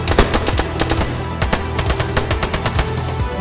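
Gunfire from the video game DayZ rattles out in a dense, rapid stream of loud shots, a near-continuous automatic burst with no talk over it.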